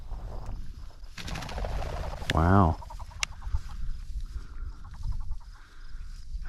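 A game bird flushes from a field in front of a puppy, giving a brief loud cackling call in the middle, with wingbeat-like flutters and rustling outdoors, and a person exclaims once.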